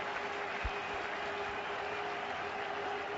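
Steady applause from a cricket crowd at Chester-le-Street, England, saluting a batsman's one-day international century against England, teammates standing on the balcony; a continuous, fairly distant wash of clapping with no speech over it.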